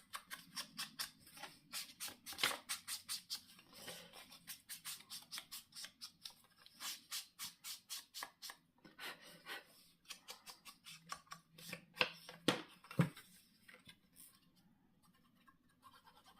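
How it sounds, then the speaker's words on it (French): Paper is embossed for a scrapbook album page, giving a long run of quick rhythmic scratching and rubbing strokes, close and fairly faint, with short pauses between bursts. "on va embrosser notre papier"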